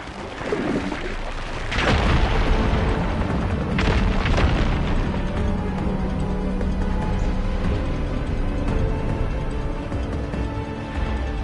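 A firegleam deposit blowing apart in Horizon Forbidden West, a heavy booming explosion near two seconds followed by a second blast and rumbling, crumbling debris that fades out over several seconds.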